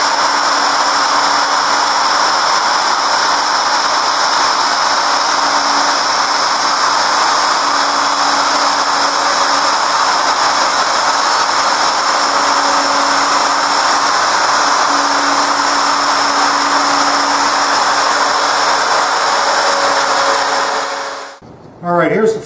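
A handheld router cuts a stopped dado into a wood panel for a small secretary hutch, a loud continuous high whine held steady for about twenty seconds before it winds down and stops.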